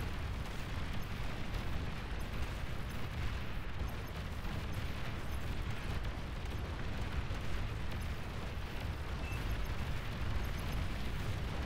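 Sustained rumbling blasts and crackling bursts as an enemy commander unit is destroyed in an 8v8 Beyond All Reason strategy match, a dense, continuous wash of explosions with no pauses.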